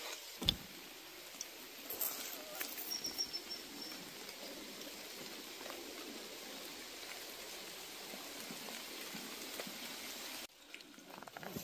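Steady hiss of rain falling at a reservoir during carp fishing, broadband and constant, with a few soft knocks early on before the patter cuts off near the end.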